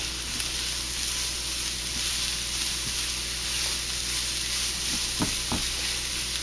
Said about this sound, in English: Quick stir just to make sure all of it gets some of that nice bacon fat.